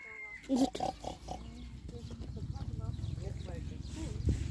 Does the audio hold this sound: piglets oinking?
yes